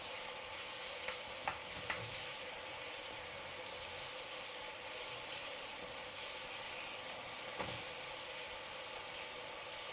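Onions sizzling and browning in a pan, a steady close frying hiss throughout with a few faint scrapes of stirring, no voices.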